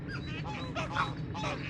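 Geese honk repeatedly at a fishing lake, several nasal calls overlapping in quick bursts at moderate distance over a low background rumble.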